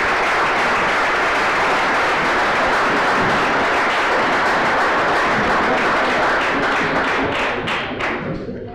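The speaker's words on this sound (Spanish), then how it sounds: "que le damos un aplauso" Sustained audience applause at an outdoor homebrew beer competition awards gala, dense continuous clapping that holds steady for several seconds and then thins out toward the end.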